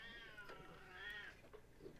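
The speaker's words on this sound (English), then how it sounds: "my kitty cat is really mad right now" An angry cat gives a drawn-out, wavering meow followed by a shorter complaint, close to the microphone and fairly quiet, heard during an electronics teardown at a workbench.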